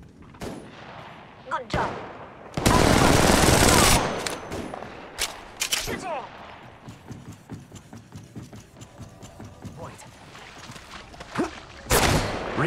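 Gunfire from weapons in the Apex Legends Mobile battle royale game, with sharp bursts of shots scattered throughout and a loud sustained burst near the start, plus a brief spoken remark.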